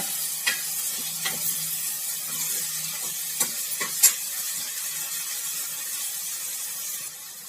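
Curry leaves stir-frying in a pan for Tirunelveli sodhi kulambu, a steady close sizzle with a few scattered scraping clicks of stirring, no voices.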